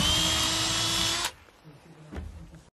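A power drill bores a pilot hole into timber framing for a garden room wall, running loud and steady for just over a second before cutting off, followed by quieter handling clatter and a brief knock at the end.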